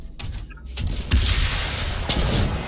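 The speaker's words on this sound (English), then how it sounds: "my weapon is the NS Burster, which is an anti-vehicle grenade" NS Burster anti-vehicle grenade launcher firing in the sci-fi shooter Planetside 2, heard as several punchy thumps and bursts with a low booming undertone, fairly loud and close over constant background battle noise.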